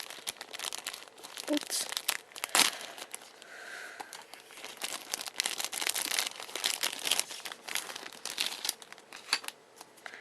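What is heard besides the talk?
crinkling and tearing paper wrapper while unboxing fingerboards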